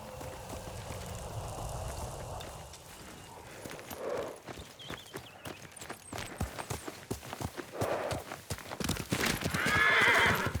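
In the video game Ghost of Tsushima, a horse whinnies loudly near the end after a run of clip-clopping hooves, with rustling and soft movement at the start.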